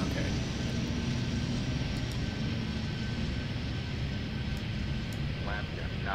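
Aircraft engine noise from the Airport Madness 3D video game, set at Miami airport, forms a steady broadband hum throughout, with a voice talking over it.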